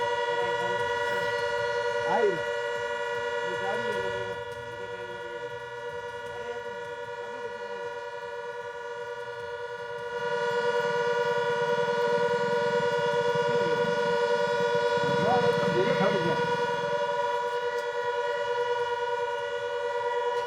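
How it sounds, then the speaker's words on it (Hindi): A civil defense siren wails steadily in Jaisalmer, its sustained, layered tone holding loud and unbroken for the whole stretch, with faint background activity beneath and a rise in low rumble midway. "जैसलमेर में लगातार सायरन की आवाज़ सुनाई दे रही है।"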